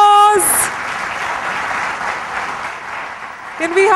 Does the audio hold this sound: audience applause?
yes